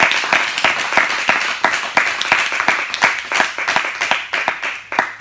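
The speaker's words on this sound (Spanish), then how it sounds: "Pues dale un aplauso al Rey." A church congregation claps during a Christian sermon, loud close applause with distinct individual hand claps standing out in an uneven rhythm, fading toward the end.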